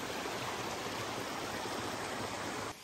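A river stream tumbles down a waterfall in a constant, loud rushing roar of water that fills the whole stretch evenly before cutting off abruptly at the very end.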